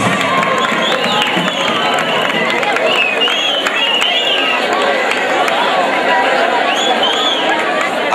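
An audience at a parish queen pageant and coronation applauds a departing contestant with a dense, steady roar of clapping mixed with cheers, whistles and chatter throughout.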